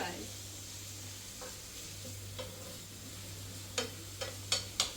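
Chicken curry sizzles steadily in a pan while a utensil stirs it, with a few sharp clicks and knocks of the spoon against the pan near the end, close by.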